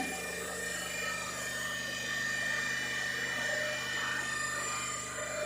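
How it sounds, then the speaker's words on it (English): A three-phase alternator machine runs at about 1500 rpm, a steady mechanical drone with a high whine and a faint rhythmic rumble, continuous and fairly close with no talking. "so that I am increasing the speed of the machine by the help of rheostat"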